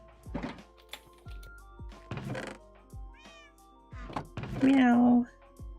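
Cats meow several times in the Minecraft game, short mewing calls between soft thunks and clicks, with a louder, longer meow near the end.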